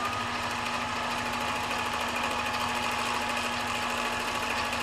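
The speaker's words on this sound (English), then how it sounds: "it's going to start stitching, and when I stop moving the machine, it will stop stitching." A domestic sewing machine runs steadily at constant speed while quilting, giving a continuous near mechanical whir with a fine rapid needle rhythm and a steady hum throughout.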